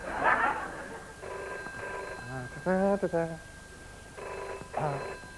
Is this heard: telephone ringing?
yes